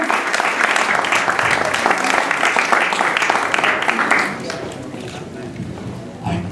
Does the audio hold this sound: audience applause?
yes